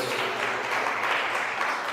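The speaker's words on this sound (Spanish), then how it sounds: "Fuertes aplausos al Señor." A church congregation breaks into applause, a dense wash of clapping from many hands that stays even and sustained throughout.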